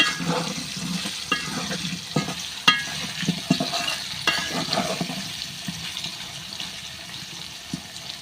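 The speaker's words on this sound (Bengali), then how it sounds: "লাল লাল করে আলুগুলো ভেজে নেব" Potatoes frying in oil, a continuous close sizzle with scattered knocks and scrapes of a utensil, and no voices.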